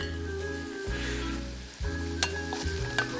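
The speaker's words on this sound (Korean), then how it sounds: "고춧가루가 살짝 좀 볶아야지" Chili powder and garlic sizzle as they are stir-fried in a hot pan, with a steady frying hiss, scraping stirs and a few sharp crackles, close up and with no voices.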